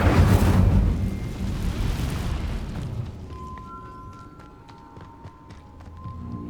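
An Incendio fire spell cast in Hogwarts Legacy, a loud whooshing fiery burst that roars for a few seconds and then fades into quieter crackles and soft game tones.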